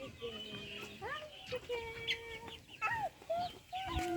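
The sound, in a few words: Black Sumatra chicken rooster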